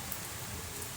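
Steady rain falling, a dense even hiss of drops on surfaces close by, continuous and unbroken with no voices.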